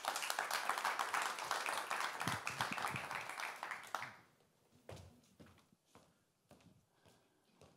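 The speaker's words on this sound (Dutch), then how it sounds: "Geef hem een hartelijk applaus." Dense audience applause at a university talk event fills the first four seconds, loud and steady, then breaks off into scattered lone claps and faint room noise.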